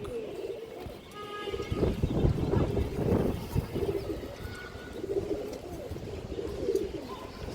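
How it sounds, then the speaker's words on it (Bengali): Silver Bagha pigeons coo at a bird market in Bangladesh, low repeated burbling calls rising and falling close by over busy background noise and scattered chirps. "এই যে প্যাডটা সিলভার বাঘা কবুতর"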